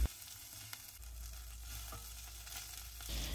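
Shallots, garlic, chili, bay leaves and galangal stir-frying in a pan, a faint, even sizzle with a few light spatula scrapes, close but quiet.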